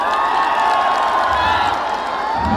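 Audience at a baby daughter's naming ceremony event cheering and clapping, a loud, continuous crowd roar with whoops and shouts over scattered claps.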